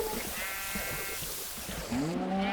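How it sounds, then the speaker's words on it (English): Sheep bleating in Minecraft, several short wavering bleats from farm animals penned in a small containment system, fairly close and alone with no talking. "Yeah, so we got another sheep in here."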